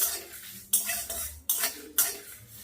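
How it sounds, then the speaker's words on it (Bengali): Fennel and coriander seeds dry-roasting in a pan for pickle, with a spoon scraping and clinking against the metal several times in short bursts over a faint sizzle. "এই মশলাগুলো সব একসঙ্গে দিয়ে হালকা করে ভেজে নেব"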